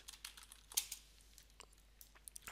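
Soft, quiet tapping on a computer keyboard, irregular clicks in short bursts with one sharper keystroke, no talking.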